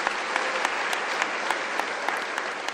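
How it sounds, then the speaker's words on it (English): An audience claps at a university closing ceremony for the academic year, a steady dense wash of applause at moderate distance that carries evenly throughout without talk. "Can I request a round of applause for them?"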